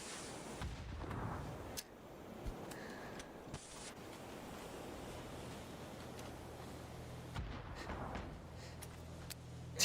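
Grenade blasts in a competitive shooter match sound as faint booms and sharp distant bangs over a steady low game ambience, with a few brief transient hits scattered throughout.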